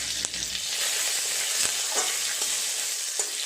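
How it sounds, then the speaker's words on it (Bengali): Black cumin seeds and two green chillies sizzle in hot oil for a fish curry, a loud, close, continuous crackling fry with small pops scattered through it. "কালো জিরে ফোড়ন দিয়ে আমি ঝোলটা সাঁতলাবো দিয়ে দিলাম কালো জিরে দুটো কাঁচা লঙ্কা"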